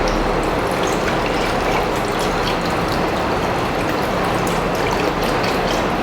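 Water pours into a pot of hilsa fish in a home kitchen, a steady, close splashing gush that runs evenly and continuously with no talk.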